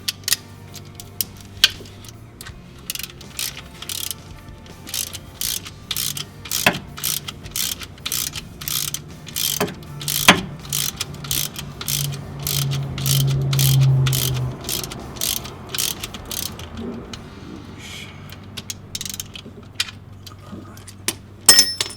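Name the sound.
nut being threaded and tightened on VW Bus transmission ground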